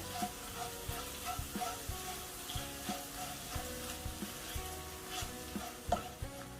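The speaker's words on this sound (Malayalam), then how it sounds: "ഇനി ഉള്ളിയൊക്കെ നന്നായിട്ടൊന്ന് വഴണ്ട് വരട്ടെ." Onions sautéing with a pinch of salt in a pan for Kerala-style rava upma, a soft continuous sizzle with regular light scraping strokes of a spoon, close but quiet.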